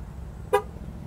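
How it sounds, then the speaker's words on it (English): A single brief, sharp horn toot from a 2017 Jeep Wrangler Unlimited Winter Edition over a low engine rumble, loud and close. "Two honks,"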